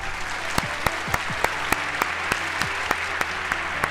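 Close, rhythmic hand clapping with about a dozen sharp claps in an even beat, alone and without voices.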